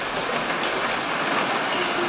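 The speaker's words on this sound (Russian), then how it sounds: "но у нас в душе дождь" Rainwater pours into a shower and bathroom, giving a steady, even hiss of drops spattering on surfaces, close and unbroken throughout, with no voices.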